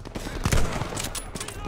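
Rapid gunfire from a Call of Duty: Vanguard match, a dense burst of shots peaking mid-clip over a busy battlefield din, with a voice mixed in.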